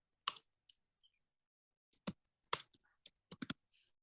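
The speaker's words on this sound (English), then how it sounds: "I'm typing here google.com" Scattered clicks on a computer keyboard as a web address is typed, a few isolated strikes then quick short bursts of keystrokes, close and fairly quiet with no talking.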